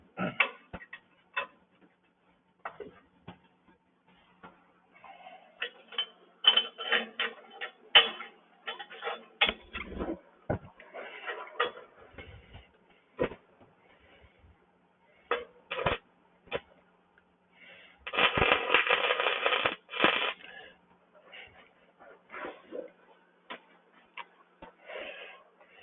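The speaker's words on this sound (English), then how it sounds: "Let me raise my table up here just a little bit." A welding table being raised, giving a run of close mechanical clicks, ratcheting ticks and creaks in irregular bursts, with a denser grinding stretch near the end.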